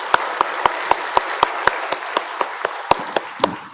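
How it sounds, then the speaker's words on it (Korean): A church congregation at a Sunday evening service claps together in a steady, even rhythm of sharp claps about four per second, close and clear, with no talking. "우리 7, 8남전도회를 향해서 박수 한번 쳐주세요."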